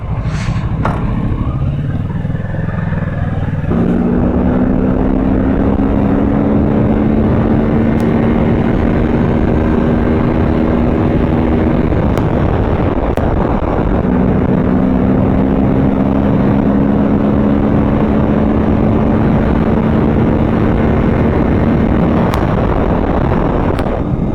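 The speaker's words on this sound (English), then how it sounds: "The wind blast." Heavy roaring wind buffets a rider on a Kawasaki Z650 motorcycle, a loud continuous rush that stays constant throughout, with the engine droning underneath.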